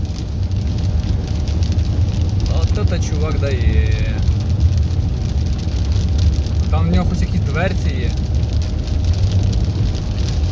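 Steady wash of heavy rain noise over a running car interior while driving, with people talking briefly in the middle.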